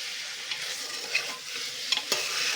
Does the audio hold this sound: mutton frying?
yes